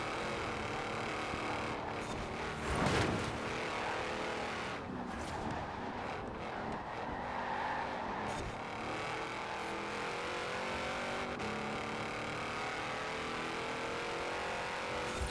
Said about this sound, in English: just rocketing down the highway here, smashing into a traffic car